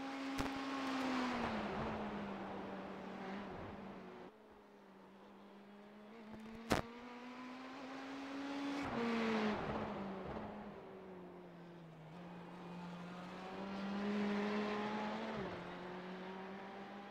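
A race car engine in the iRacing sim racing game, a steady droning whine that rises and falls with gear changes and revs through the lap, moderately loud and continuous.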